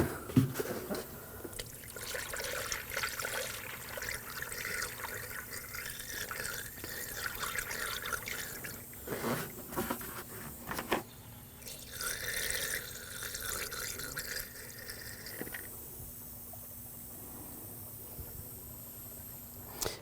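Coolant is poured into the cooling system of a 2007-2013 BMW 328i 3.0L inline-six after a radiator replacement, making a soft, steady trickling and gurgling sound that continues throughout at close range.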